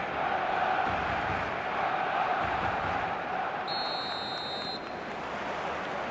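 Steady, dense roar of a stadium crowd during a football video game, a continuous broadband wash of massed voices at a big match-day fixture, holding level throughout with a brief electronic tone near the end.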